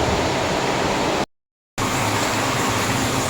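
Tap water pouring steadily into a kitchen sink basin, a loud broadband rush that cuts out abruptly for half a second and then resumes unchanged.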